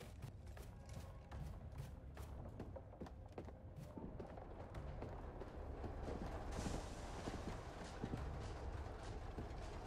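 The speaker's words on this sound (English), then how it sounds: "Hear footsteps." Footsteps sound in the online horror video game Propnight, a run of quick, rhythmic thuds heard fairly faintly over game ambience.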